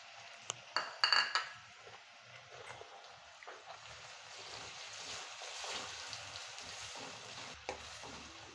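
Chopped tomato stirred into frying onions in a home pan for a Kathiyawadi dish brings a few sharp utensil clinks at first, then soft, steady sizzling and stirring up close.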